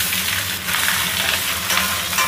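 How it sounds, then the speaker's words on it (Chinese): Beef tendon scraps with ginger sizzle in oil in a hot wok while being stirred, giving a steady close crackling hiss with soft scraping from the turning. "先给它在锅里翻一翻，把上面的这个水劲呢给它炒干"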